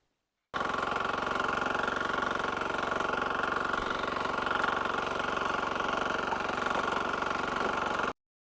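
A Sharp Garuda mini weeder engine runs at a steady, unbroken drone with a faint knocking rhythm. It holds at an even level throughout, with no voices.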